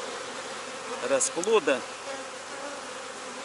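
Honeybees swarm over a hive frame holding queen cells, a steady dense buzz filling the air, with a brief swell of louder buzzing and someone speaking briefly midway.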